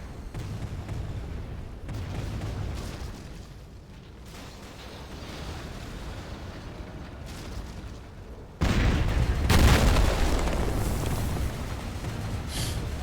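An Anthrax bomb detonates in a Command & Conquer Rise of the Reds battle, low rumbling artillery-like booms over a steady din, then a sudden loud blast that stays heavy and roaring afterward.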